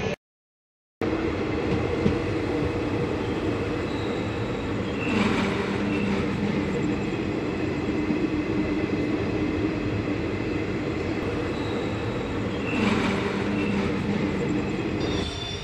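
Paharia Express passenger train running at about 110 km/h, heard from inside: a steady loud rumble of wheels and carriage with faint periodic clatter, continuous throughout after a brief silent start.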